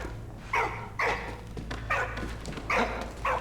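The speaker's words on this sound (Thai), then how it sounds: "ลักลักกี้เห่าข้างบน มีอะไรเหรอ" A dog barks in the World War I video game Valiant Hearts: The Great War: four or five loud, close barks spaced about a second apart over a steady low background hum.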